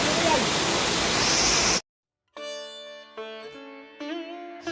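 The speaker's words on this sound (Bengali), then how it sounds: "উপর থেকে ঝর্ণা নেমে আসছে এই ঝর্ণাটা সোজা নিচে গেছে" Waterfall at Rock Garden, Darjeeling, a loud broadband rush of falling water that cuts off abruptly, followed by a voice talking.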